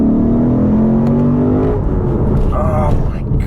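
A Lexus RC V8 in sport mode revs hard with a rising engine howl, then drops back to a rumble as the gears shift. The sound is loud and close from inside the cabin, and a voice cuts in briefly near the end.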